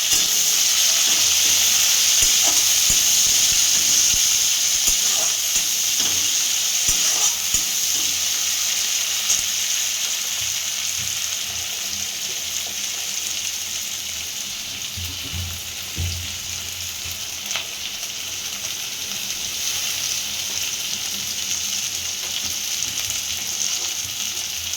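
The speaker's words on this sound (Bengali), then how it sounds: "পেঁয়াজটা একটু ভাজা ভাজা হবে" Onion and potato sizzle steadily in a hot wok, a loud, continuous frying hiss with occasional soft crackles and stirring scrapes running throughout without any voices.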